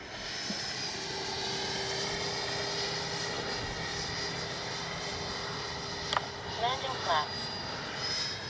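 An FMS Integral 80mm RC jet with its gear and flaps down on landing approach gives off a steady distant whine and rush, with someone talking over it.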